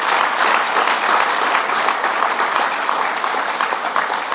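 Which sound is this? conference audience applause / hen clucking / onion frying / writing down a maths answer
conference audience applause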